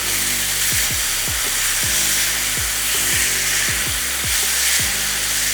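Chicken fries in a pan over a high flame with a loud, continuous sizzle, cut by a rhythmic series of scraping stirring strokes roughly every half second.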